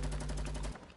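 Rapid video game gunfire crackles in a dense, steady burst close up, then cuts off abruptly, leaving a faint tail.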